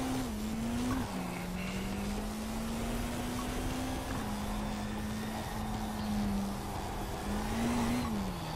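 A race car in the SimRaceWay game whines steadily as its engine note wavers, with tire squeal and skidding as it spins out, continuous and fairly loud with no voices.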